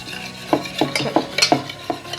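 Salt being stirred into buttermilk for neer moru, a quick run of rhythmic clinks and scrapes of a spoon against the vessel, close and fairly loud.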